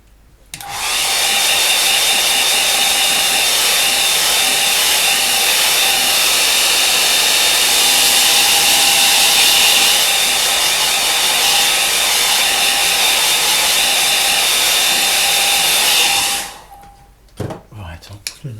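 A hair dryer blows on a watercolour painting, a loud, steady, close whoosh with a whining tone that runs unbroken for about sixteen seconds and then cuts off, followed by a few small clicks.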